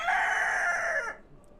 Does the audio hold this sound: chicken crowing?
yes